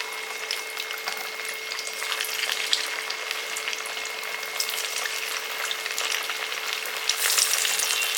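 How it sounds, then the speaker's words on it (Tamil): Plantain slices frying in hot oil give a dense, continuous crackling sizzle that holds steady throughout, close and fairly loud with no voices. "நம்ம வாழைக்காயை பொரித்து எடுக்க போகிறோம்"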